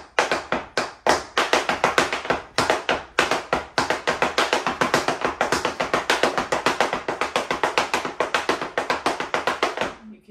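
Rapid tap dancing on a thin half-inch homemade portable dance board over a mat, with dense bright trebly taps in quick rhythmic runs, loud and close, steady until a brief stop at the very end.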